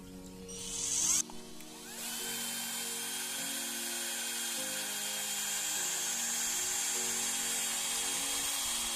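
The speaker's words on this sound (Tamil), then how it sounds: "ஃபஸ்ட்டு நம்ம ட்ரில்லர் எடுத்து கரெக்டாக அந்த மவுத் போகிற அளவுக்கு ஒரு ஓட்டை போட்டுக்கலாம்." A power drill whines steadily and loudly for several seconds after a brief start, its pitch holding as it bores a hole into a thin metal spray paint can.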